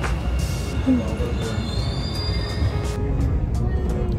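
A Dubai metro train runs steadily, its wheels squealing now and then over a continuous rumbling roar on the rails, close and loud throughout.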